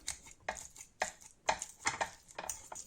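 Cooked squash is mashed in a bowl with a utensil, a series of quick soft thuds and scrapes in an irregular rhythm, close and fairly quiet, with no voices.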